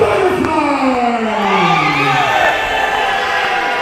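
Wrestling crowd at a New Era Wrestling show reacting to the Heavenly Butterflies tag team, a steady loud roar of voices with some shouting and whooping, the crowd noise continuous throughout.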